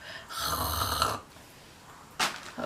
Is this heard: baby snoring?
yes